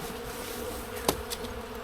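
Bees buzz inside an opened hive during a spring inspection, a steady close hum throughout with a brief louder pass partway through.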